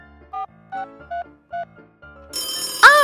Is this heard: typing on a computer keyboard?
no